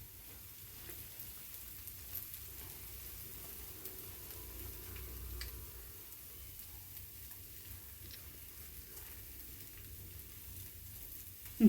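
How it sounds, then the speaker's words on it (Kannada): Ghee is spread across a masala dosa cooking on a hot griddle, giving a faint, steady sizzle with a few light crackles and a brief scrape at the end. "ಇವಾಗ ತುಪ್ಪ ಹಾಕ್ಕೊಳ್ತಾ ಇದ್ದೀನಿ. ನೀಟಾಗಿ ಎಲ್ಲ ಕಡೆನೂ ತುಪ್ಪ ಹಾಕ್ಕೋಬೇಕು ಈ ಥರ."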